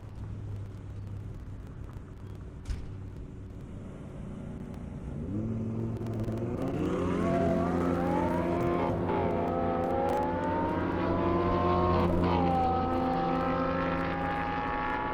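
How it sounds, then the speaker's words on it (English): Mercedes E63S and Audi R8 racing down an airstrip: a low steady idle gives way after about five seconds to loud engine roar rising through gears, with pitch sweeping upward as the cars accelerate nearby. "I got Peter in the E63S, Jay in the Audi R8"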